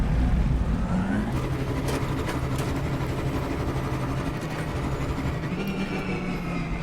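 Steady vehicle engine drone with rumbling low tones as a vehicle drives across terrain in the video game No Man's Sky, continuous and fairly loud, with no talking.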